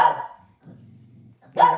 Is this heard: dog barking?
yes